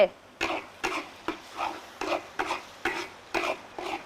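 Minced garlic stir-fries with minced pork and soy sauce in a pan, eight or so rhythmic spatula scrapes and tosses over a light sizzle.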